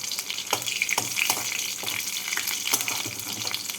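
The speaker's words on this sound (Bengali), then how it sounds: "তেলটা গরম হয়ে গেছে এর মধ্যে ফোড়নে দিচ্ছি তিনটে কাঁচা লঙ্কা হাফ টিস্পুন কালো জিরে" Green chilies and nigella seeds crackle and sizzle in hot mustard oil, a steady close, bright frying hiss with small pops and spits throughout, no voices.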